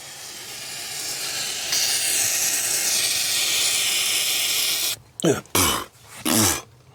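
A steady, loud hiss of aerosol spray can paint runs for several seconds, then breaks into a few short sputtering bursts as the clogged nozzle cuts in and out.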